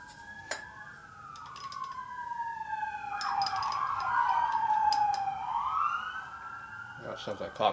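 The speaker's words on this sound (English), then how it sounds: "That sounds like cop cars on engines." Police car and fire engine sirens wail and overlap at a distance, rising and falling over several seconds, with faint voices and workshop clatter in the background.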